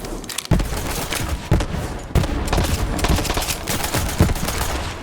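The Pouncing Nightflyer gun in Borderlands 3 fires in rapid, loud bursts, with punchy reports and booming impacts packed closely together and brief pauses between volleys.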